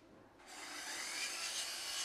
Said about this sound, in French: on manipule la scie électrique